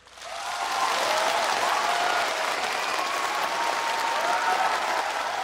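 A live show audience applauds a singer with sustained, dense clapping from a large crowd. It swells quickly and holds steady for several seconds without talk.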